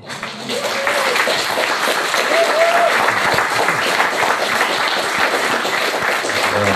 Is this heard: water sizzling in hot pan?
no